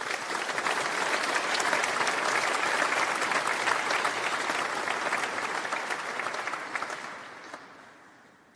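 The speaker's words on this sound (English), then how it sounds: "I think that deserves a round of applause" A graduation ceremony audience applauds steadily in a large hall, dense clapping that holds loud for several seconds and then fades out near the end.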